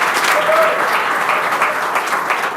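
An audience applauds loudly and continuously to welcome the president of Tyler Perry Studios onto a stage, dense clapping filling the room with faint crowd noise.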